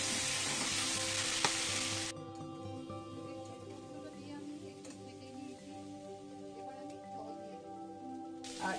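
Potatoes with poppy seed paste fry in a pan for a Bengali aloo posto curry. A loud, dense sizzle opens, drops to a softer crackle over steady background tones, then flares up again at the end.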